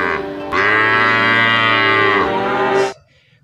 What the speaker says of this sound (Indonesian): ini ada kerbau